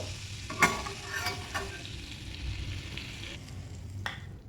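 Vegetables sautéing in a generous amount of butter, a steady sizzle with soft stirring scrapes and a few sharp utensil clicks against the pan, close and moderately loud.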